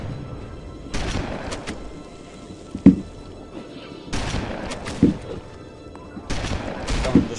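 Gunfire in Halo: Combat Evolved, a few sharp shots and bursts spaced across the stretch over a low rumbling game background, fairly loud and close.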